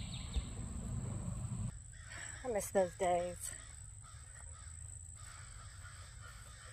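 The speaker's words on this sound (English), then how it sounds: "You hear them crows? They're talking about it." Crows cawing outdoors, a short burst of three or four harsh, ragged caws from fairly near, with someone speaking briefly before them and a thin steady insect drone throughout.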